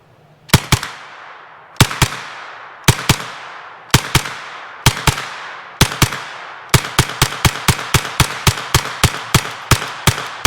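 A Nova NAK-9R 9mm AK-pattern rifle fires Phoenix 124 grain ammunition outdoors: sharp loud cracks in pairs and triplets with pauses, then a fast run of about ten shots, each ringing with a short echo.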